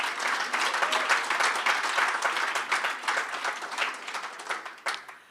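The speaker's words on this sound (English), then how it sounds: "Let's give Peter a round of applause" Audience applause at a swimming association's awards evening, a moderate, even patter of many hands clapping that fades toward the end.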